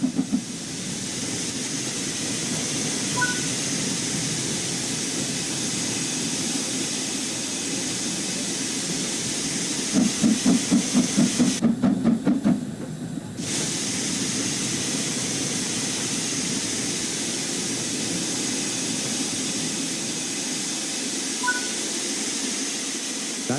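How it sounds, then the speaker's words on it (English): Train braking with the combination brake in Train Sim World 5, a steady rumbling hiss of rolling stock with a louder burst of air and clattering partway through before settling back to an even low drone. "Use the combination brake to apply some braking force and bring the train to a stop."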